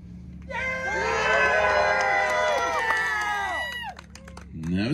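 A crowd at a mini bike race lets out a loud, sustained cheer of overlapping shouts and whoops lasting several seconds, then fades and a voice briefly rises at the end.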